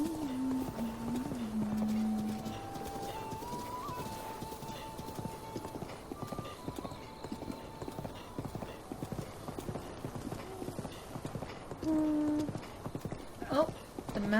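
Rapid, continuous clip-clop of horse hooves rides along a path in the video game Zelda: Breath of the Wild, with a brief whinny and game music layered over the galloping, all at moderate volume.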